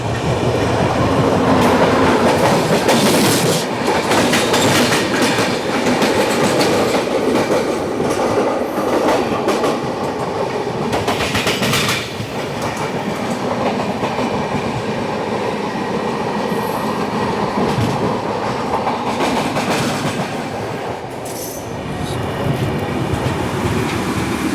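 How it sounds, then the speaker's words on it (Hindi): The Amritsar Nanded Sachkhand Express passenger train runs on the rails, a loud continuous rumble with wheel clatter and occasional squeals heard from inside the moving coach. "ग्यारह मिनट की देरी से 5:11 पर हमारी ट्रेन पहुंची है पाचोरा जंक्शन"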